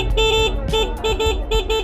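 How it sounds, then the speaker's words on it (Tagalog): An NXT Porto classic-style electric scooter sounds its horn in a series of short, loud, nasal beeps, about five quick toots with tiny gaps, heard close and alone. "try natin si busina."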